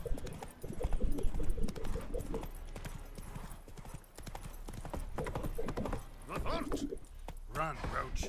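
Roach the horse galloping in The Witcher 3 video game, rapid hooves clip-clopping steadily throughout with a brief whinny, mixed under voices talking and game sounds.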